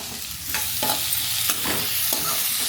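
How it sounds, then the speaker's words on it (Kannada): Onions and green chillies stir-frying in a pan for chilli chicken: loud, dense, continuous sizzling close up, with a few heavier stirring scrapes marking the mix as it is tossed. "ಈಗ ಈರುಳ್ಳಿ ಮೆಣಸಿನ್ಕಾಯಿ ಹಾಕಿ"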